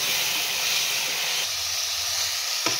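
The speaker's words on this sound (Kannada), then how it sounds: "ಪೇಸ್ಟನ್ನು ಆ್ಯಡ್ ಮಾಡಿ ಫ್ರೈ ಮಾಡ್ಕೊಳ್ತಾ ಇದ್ದೀನಿ." Ginger, garlic and mint paste fries in a pan for a chicken biryani, giving a loud, steady hiss that changes texture halfway through, with one brief tap near the end.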